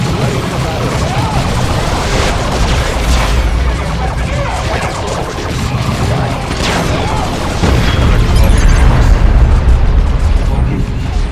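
Booming explosions and battle noise in Warhammer 40K Dawn of War 2 after a grenade lands, loud and dense with rumbling bursts and a heavier blast near the end, under shouted voices.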